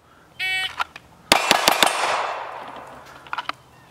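A rapid string of pistol shots from a Smith and Wesson M&P at a shooting range, three or four sharp close cracks in quick succession after a timer beep, with a ringing decay and a faint later pair.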